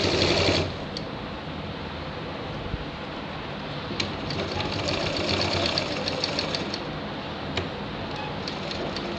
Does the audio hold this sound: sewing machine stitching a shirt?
yes